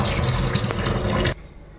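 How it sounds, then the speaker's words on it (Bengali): Water from boiled flat beans (shim) pours out through a basket, a steady close splashing rush that stops abruptly near the end, leaving a faint hiss. "তো দেখো টুকরিতে ঢাইলা নিলাম, জলটা ঝরে গেল পুরা।"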